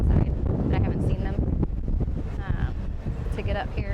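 Strong wind buffets the microphone on the far-forward upper deck (deck 12) of the Royal Caribbean cruise ship Mariner of the Seas at sea, a loud continuous roaring rumble that persists throughout, with faint voices underneath.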